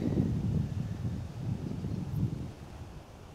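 Wind buffets the microphone with a low, steady rumble on a disc golf course at the 2012 Vibram Players Cup semifinals, surging and easing in gusts before fading toward the end.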